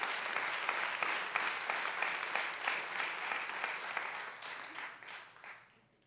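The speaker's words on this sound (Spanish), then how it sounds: "Yo pensé que le iban a dar un aplauso al Señor por eso." Church congregation breaking into sustained applause during a sermon, dense and steady for several seconds before fading out near the end.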